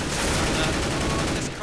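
Dense, continuous automatic gunfire from several weapons in a tactical shooter match, a crossfire on a competitive map during a tournament game, loud and close with rapid overlapping shots filling the whole stretch and a commentator's voice faintly underneath.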